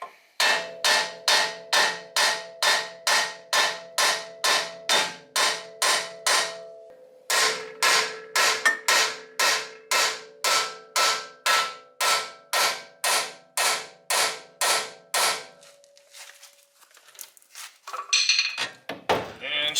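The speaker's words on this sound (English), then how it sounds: "You might ding up the steel just a little bit with the hammer" Steel hammer strikes knocking a tie rod end loose on a BMW E36, about two dozen loud, evenly spaced metallic blows in a steady rhythm, with a brief pause midway and a short rattle and clunk at the end.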